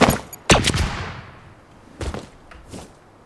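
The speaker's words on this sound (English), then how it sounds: "That's the OG burst, guys" Burst rifle fired in the Fortnite video game, with short clustered shot bursts near the start and a couple of further sharp reports later, each fading into a decaying tail.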